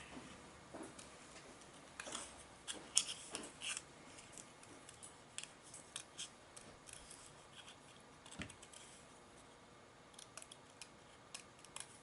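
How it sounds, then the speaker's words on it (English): Tiny scissors snipping around a small paper flower, a quiet, close series of crisp clicks and cuts coming in irregular bursts, alone with no talk. "We'll fussy cut out our little flower."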